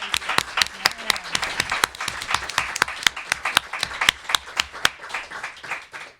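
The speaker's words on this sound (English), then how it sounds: "Let's give Briar a round of applause." Applause for a performer at a conversation event with playwright Madeleine George, a small audience clapping in distinct sharp, irregular hits that thin out and fade toward the end.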